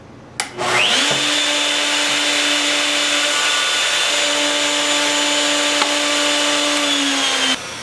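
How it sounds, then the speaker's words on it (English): Wooden board pushed across a spinning saw or router blade to cut a groove one inch from the edge for a simple lidded box: a click, then a loud steady whining motor with the cut running under it for about six seconds, close. "when I run my board across, it's going to leave a groove 1 inch from the edge."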